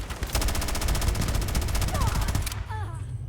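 Rapid automatic gunfire in the video game Starfield, a loud sustained burst of evenly spaced shots lasting over two seconds before stopping abruptly.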